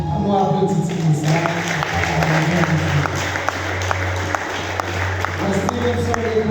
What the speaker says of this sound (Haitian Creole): alors, applaudissez ça.